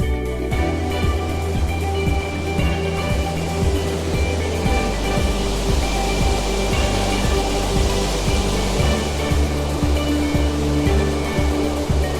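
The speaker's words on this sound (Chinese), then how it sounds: "我们现在已经在瀑布下面了，这个地方风还是挺大的" Takakkaw Falls in Yoho park roars as a steady, loud wash of falling water heard from close below the falls, with wind gusts buffeting the microphone throughout.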